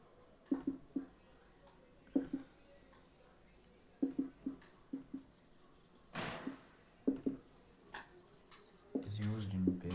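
A marker or pen scratches a grammar definition onto a board or paper in short repeated strokes with small pauses, and a voice speaks faintly in the background.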